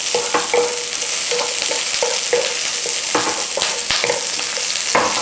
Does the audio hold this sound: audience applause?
no